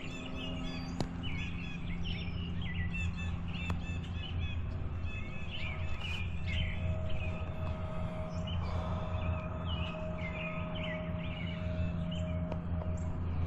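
Many small birds chirp and tweet in quick, overlapping calls at a garden seed feeder in early spring, fairly close, over a steady low rumble in the background.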